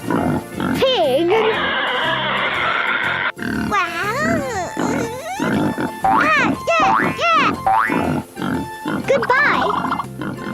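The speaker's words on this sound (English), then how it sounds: "Pig." A pig grunts and oinks repeatedly in loud, close bursts, with a voice speaking in between.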